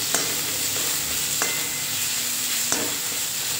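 Ground spice paste hits hot oil in a pan and sizzles loudly and steadily, with a few sharp stirring clicks breaking through the constant frying hiss.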